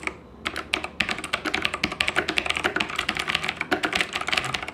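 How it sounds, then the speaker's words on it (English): Typing on a Royal Kludge RK987 wireless mechanical keyboard with blue switches and plastic keycaps, a rapid close run of crisp clicky keystrokes with uneven rhythm and no talking. "typing on this keyboard is a breeze"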